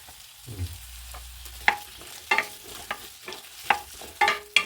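Onions sautéing in plenty of oil on a low flame, a faint steady sizzle punctuated by several sharp scrapes and clinks of a spoon stirring the pan.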